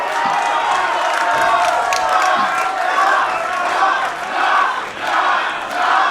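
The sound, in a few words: wrestling crowd cheering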